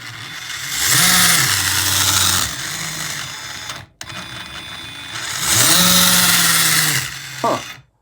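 A Tekno RC crawler's electric motor whines up, holds a steady buzzing pitch and winds down, twice in a row, loud and close with a short gap between runs and a brief rattle at the end.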